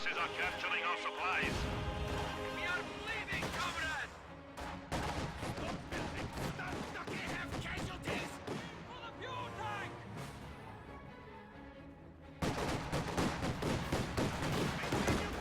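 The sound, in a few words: PTRS anti-tank rifle volley and gunfire, video game battle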